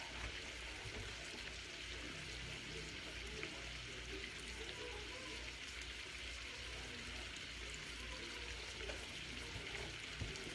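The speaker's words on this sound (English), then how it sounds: "I'm going to drain our pasta water real quick." Pasta water drains from a pot in a home kitchen, giving a continuous soft rushing, splashing stream that stays even throughout with no talking.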